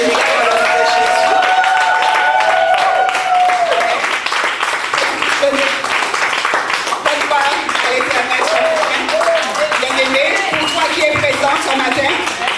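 A church congregation applauds and cheers for the choir: dense, sustained clapping fills the room for over twelve seconds, with voices calling out and singing over it.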